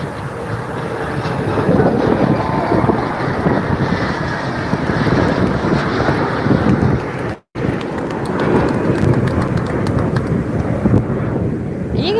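Strong wind buffets an outdoor phone microphone, a loud continuous roar with gusty rumble that drops out briefly near the middle and returns.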